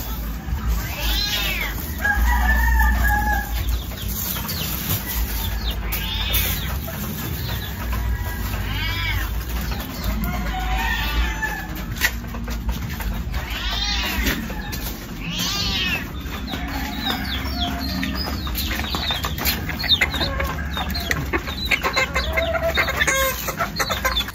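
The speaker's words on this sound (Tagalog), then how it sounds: "Mga paitlog ni Papa yan." Laying hens cluck and squawk near and far, with crowing from a rooster now and then, alongside what sounds like a cat meowing, and a steady high insect-like hiss above the birds.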